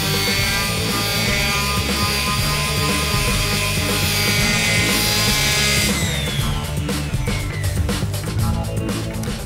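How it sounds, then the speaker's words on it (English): A palm sander buzzes against varnished wood with a steady whirring drone that shifts pitch partway through, close and continuous, with no voices. "I'm gonna use a palm sander because it really speeds things up"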